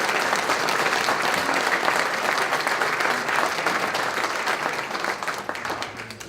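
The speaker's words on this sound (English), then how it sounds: "Please give them a round of applause." Audience at an American Legion post military ball claps for sponsors, steady dense applause from a large crowd filling the room and holding strong throughout before tapering slightly at the end.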